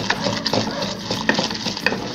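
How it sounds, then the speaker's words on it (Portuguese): Ginger and honey candy being stirred in a light pan, with soft scraping and clicking strokes repeating steadily along with a faint sizzle, close and moderately loud. "você continua mexendo até ela ficar desgrudada da panela"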